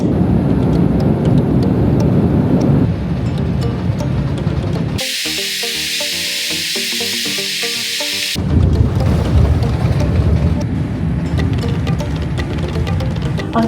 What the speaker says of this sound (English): the sound of the plane, obviously